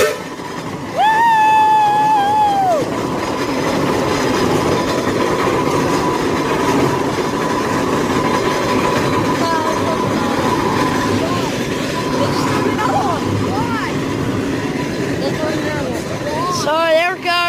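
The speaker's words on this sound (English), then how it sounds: "so there's the steam engine" A steam engine train sounds a whistle near the start, then rolls past with loud steady rumble and clickety-clack, with people talking faintly nearby.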